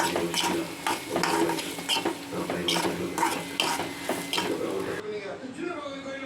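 Onions frying in hot oil in a pan for a Tamil-style country chicken curry, a steady sizzle with stirring and clinks of a utensil against the pan, fairly close and continuous before quieting near the end.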